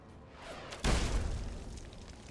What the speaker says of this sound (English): that guy up on the balcony has a goddamn rocket launcher